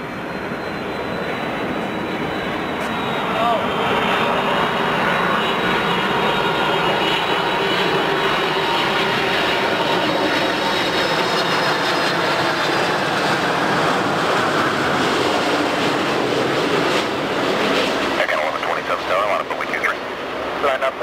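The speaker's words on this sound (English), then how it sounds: "cleared for takeoff" A jet airliner roars down the runway on takeoff at Toronto Pearson Airport, a loud sustained engine rumble with a high whine that swells and then fades, while a radio voice talks over it.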